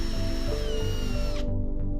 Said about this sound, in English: get your drill and then drill through pilot holes